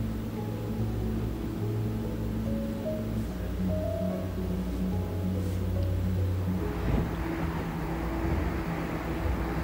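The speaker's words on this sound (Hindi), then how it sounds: "ये लहरों का शोर बहुत अच्छा लग रहा था" Ocean waves and wind beneath the Golden Gate Bridge in San Francisco, a steady broadband rush with a low, constant hum running underneath, with no talking.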